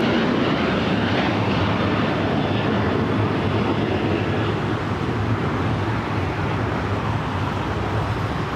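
An airplane on final approach to land on runway 25 left at LAX, heard as a loud, broad, steady engine roar and rumble that holds level throughout with no voices.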